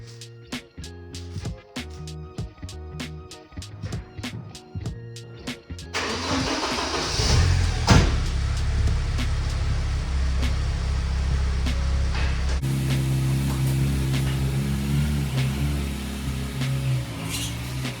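A 1987 Porsche 944 engine cranks and starts after a few seconds of clicking, then runs at a steady, close idle that changes pitch partway through, with a faint rubbing squeak.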